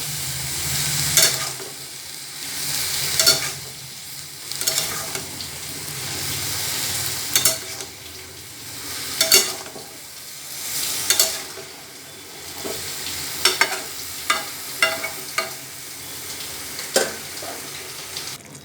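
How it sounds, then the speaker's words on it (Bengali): Eggplant and dried fish chutney stirred in a pan, a spoon scraping in repeated strokes over a steady close sizzle of frying with the vegetable's own juices, no voices. "ভালো করে মিশাবো আলাদা জল অ্যাড করব না নিজে হবে বেগুন থেকে জল বেরিয়ে"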